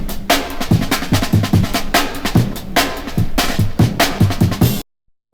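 Soul Pride drum break taken from the Jungle Warfare sample CD, a loud, steady looped pattern of punchy kicks, snares and bright cymbal hits played at its original tempo, cutting off abruptly into silence at the end.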